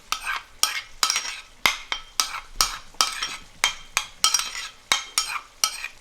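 Spoon stirring yogurt with crushed black peppercorns into a pot of potato and chickpea curry, a series of sharp scraping strokes against the pot roughly every half second over a faint sizzle.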